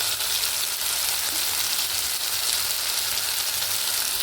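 Ground spice paste with chilli powder is sautéed in oil in a pan, giving a steady, dense sizzle that holds close and unbroken throughout, with no talking.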